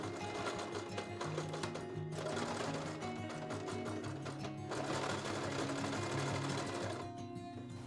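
A sewing machine runs steadily, stitching fabric with upholstery thread for fabric storage bins, its motor whirring in continuous bursts with a brief slowdown midway and no talking.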